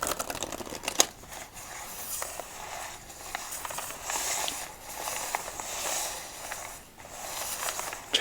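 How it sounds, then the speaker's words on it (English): Playing cards given a casino-style shuffle during an ASMR solitaire session, heard as soft, close riffling and papery ticks spread quietly across the clip, with no talking. "Casino shuffle."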